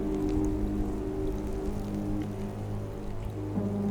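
Rain patters steadily with wind gusting below the snow-dusted rim of the Grand Canyon during a winter storm, a constant soft, close wash of drops with a low droning undertone.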